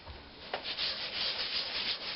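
Sandpaper rubs steadily against a walnut hollow form spinning on a woodturning lathe, a continuous close hiss with a brief scrape near the start.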